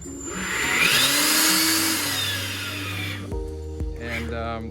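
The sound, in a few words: Ridgid 18V jobsite blower running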